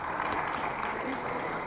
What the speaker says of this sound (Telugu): సో గట్టిగా చప్పట్లు.